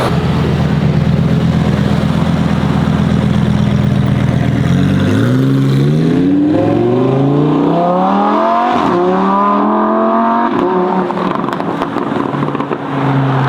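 A Lamborghini Huracán STO engine revs up and accelerates, pitch climbing through rising gear sweeps, loud and close, then settling back into a rumbling idle.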